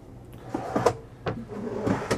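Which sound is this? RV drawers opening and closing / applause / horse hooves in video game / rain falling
RV drawers opening and closing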